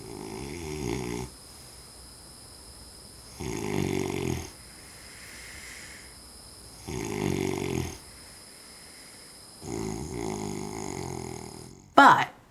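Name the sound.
man snoring in his sleep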